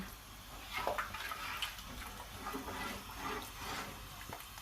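Water is poured steadily into a pot of fish soup for Thai rice noodles in coconut curry, making a continuous soft rushing splash at close range with no talk.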